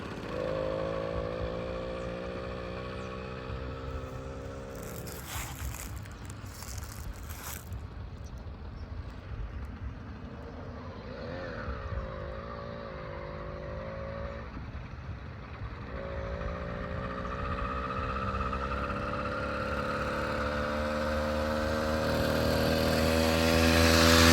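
A motorcycle engine idling steadily right after a new cylinder head was fitted, a close, even putter that holds its pitch with brief revs and grows slightly louder toward the end.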